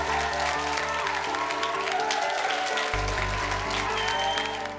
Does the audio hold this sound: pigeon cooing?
no